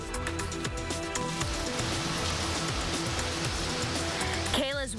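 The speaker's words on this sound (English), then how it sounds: "wind and rain kicking up quite a racket when the storm blew through the Phoenix metro" Steady, loud broadband rush of heavy rain and gusting wind during a winter storm in the Phoenix metro area, continuous throughout, with a brief burst of voices near the end.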